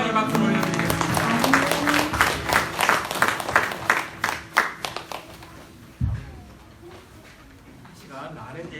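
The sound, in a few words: congregation applause in church service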